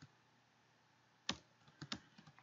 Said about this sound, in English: Let's go ahead and type it in